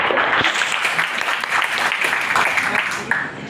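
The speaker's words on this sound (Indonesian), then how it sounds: "Tepuk tangan dong untuk orang yang sangat luar biasa" Audience applause for a guest at a gathering, a steady wash of clapping lasting the whole stretch, close and fairly loud.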